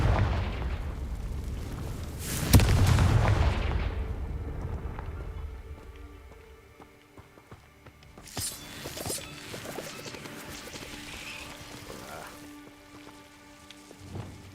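A Confringo blasting-spell explosion in Hogwarts Legacy lands as a heavy, booming low burst with crackling debris, then fades into a rumbling tail and quieter scattered effects.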